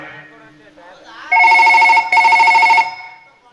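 A telephone rings loudly and close in two bursts of electronic ringing with a short gap between them, heard after a man's speech in a Kannada village comedy sketch.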